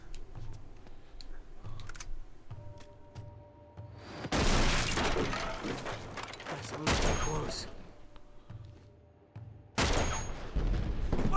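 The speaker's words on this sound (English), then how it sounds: "We'll use the sniper rifle on these dudes" Gunfire bursts from a sniper rifle fight in Uncharted 2: Among Thieves, loud sharp broadband cracks in two or three clusters with quieter gaps, with faint voices in between.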